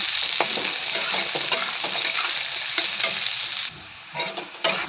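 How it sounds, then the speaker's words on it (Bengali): Onion and peanuts fry in a pan with a steady, close sizzle, while repeated stirring scrapes sound on top and then fade briefly before they return. "বাদাম আর পেঁয়াজটাকে আমি খুব ভালো করে ভেজে নেব।"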